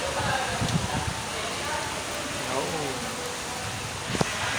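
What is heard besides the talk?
heavy rain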